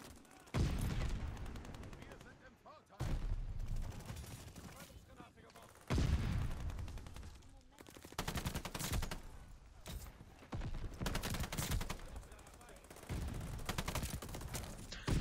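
Automatic weapon fire bursts repeatedly in Call of Duty: Vanguard team deathmatch, loud close volleys separated by brief pauses, with a voice talking at times between shots.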